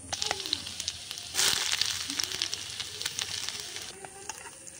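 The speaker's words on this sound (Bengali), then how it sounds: "এবার রসুন কুচি আর আদা কুচিটা দিয়ে ভালো করে ভেজে নেব।" Chopped garlic and ginger frying in a pan, a steady close sizzle with crackling pops and a louder burst as they hit the hot oil, with faint stirring scrapes and a little talk.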